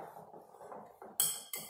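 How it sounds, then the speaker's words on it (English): Several soft scraping stirs of a utensil in a bowl of bruschetta made with fresh Roma and sun-dried tomatoes, garlic, oil and basil, ending with two sharp, bright clinks against the dish. "we're going to mix this beautiful bruschetta together"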